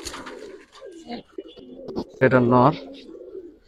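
Old-generation gribaz pigeons coo close by in one short, full burst, with someone speaking Bengali before it.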